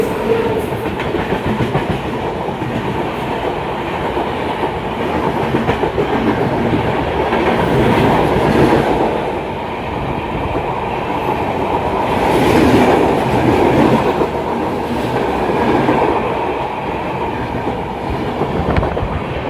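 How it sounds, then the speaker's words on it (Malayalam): Tejas Express, a luxury Mumbai CSMT to Madgaon train with a Vistadome coach, rumbles past close by for about twenty seconds, a steady loud roar of wheels and wagons with rhythmic clatter swelling midway and again near the end. "തേജസ് എക്സ്പ്രസ് വന്നുകൊണ്ടിരിക്കുകയാണ്"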